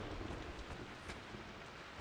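Steady rain in Rise of the Tomb Raider pours into a ruined room with an open ceiling, a continuous even hiss of drops with low rumbling underneath and no pauses.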